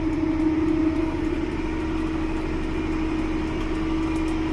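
A Versatile 265 tractor, close to 300 horsepower, idling on a farm with a steady low diesel hum and drone, even and unbroken throughout, nearby and moderately loud, with no voices.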